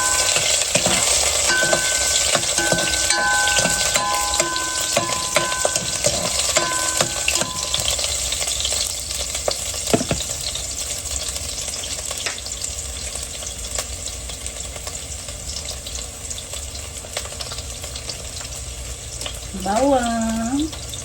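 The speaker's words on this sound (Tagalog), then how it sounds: "isusote ko na yung sibuyas" Onion sautéing in a pan for chicken soup with malunggay, a steady bright sizzle running throughout with stirring scrapes and a few clinks early on, fairly close, and a brief voice near the end.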